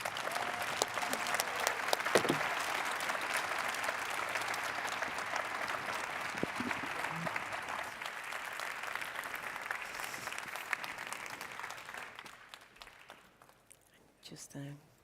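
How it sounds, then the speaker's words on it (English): An audience at a closing plenary session of a sustainable-mobility conference applauds the politicians on stage. The sustained clapping runs for about twelve seconds, fades out, and gives way to quieter murmuring and a few faint voices. "please join me in applauding them"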